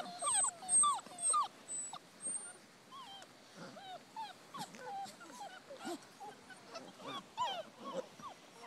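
Several basset hound puppies whimpering and squeaking in short, overlapping high cries, close by and fairly quiet, with little pauses between bursts.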